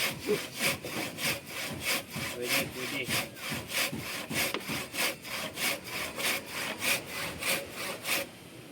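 A hand saw cuts through wood in steady back-and-forth strokes, about twenty rasping passes, close and loud, with a single brief word spoken.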